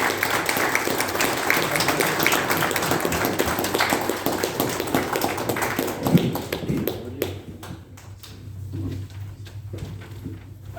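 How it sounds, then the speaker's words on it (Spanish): An audience applauds to welcome a teacher as a speaker at a Mexican Revolution talk in Chihuahua, with dense steady clapping that fades out near the end, leaving a quieter room. "Recibámoslo con un fuerte aplauso"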